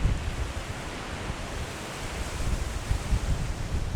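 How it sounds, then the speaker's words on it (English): Strong wind blowing outdoors at a rural dig site: steady broadband rushing with low buffeting gusts on the microphone, loud and continuous. "Oh, the wind. The wind is great."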